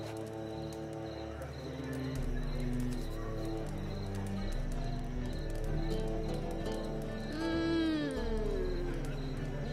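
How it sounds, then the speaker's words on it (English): Horse hooves clip-clop steadily in The Witcher 3, mixed with layered in-game music tones and a brief rising chirp-like sweep near the end, moderately loud throughout. "racehorse"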